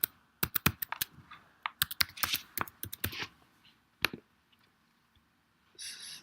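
Quick bursts of close key taps on a computer keyboard while a passport number is entered, irregular clusters of clicks with short pauses and a final trailing clack.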